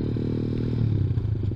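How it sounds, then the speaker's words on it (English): Engine of a ZS190 Honda Grom clone motorcycle revs in a short, aggressive throttle blip, a steady low idle note rising into a louder, rougher burst near the end, close up with no talk. "You blip the throttle on this thing and you're going."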